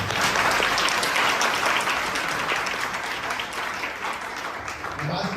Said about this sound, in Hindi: ताली बजाकर एक बार प्रभु को धन्यवाद